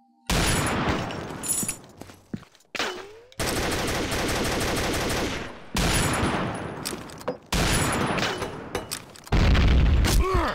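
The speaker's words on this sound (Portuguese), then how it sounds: "quem jogou granada na janela?" Gunfire and explosions from the Combat Arms online shooter, including a grenade blast near a window: dense bursts of rapid automatic fire in loud sustained stretches broken by short gaps, with a heavy boom near the end.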